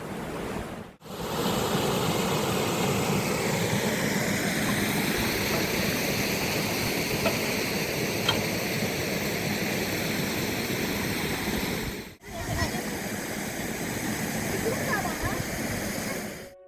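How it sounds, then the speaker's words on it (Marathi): A small roadside stream near Bahirwadi in rural Purandar taluka rushes with a steady, loud wash of flowing water, briefly cutting out twice before resuming at the same full level. "इकडे तो ओढा आहे"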